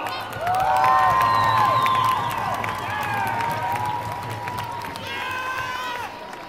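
A crowd at a carnival presentation of historical characters in Pont Saint-Martin applauds and cheers, steady clapping with shouted calls and voices over a low hum, fading slightly toward the end.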